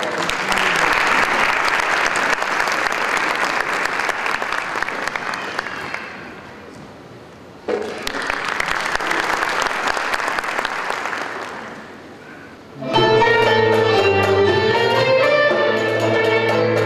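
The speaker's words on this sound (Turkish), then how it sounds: "Kendisini alkışlarınızla sahneye davet ediyorum." Concert audience at an evening of Turkish love songs bursts into loud, dense applause to welcome a soloist, fading briefly, swelling again, then giving way to the band starting up.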